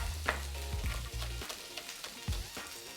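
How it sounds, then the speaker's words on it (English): Onion and red chilli frying in a dash of oil in a pan, a soft sizzle with a few stirring scrapes and clicks, fairly quiet and close. "We're going to add a dash of oil to our pan. And into that, we're going to add our onion"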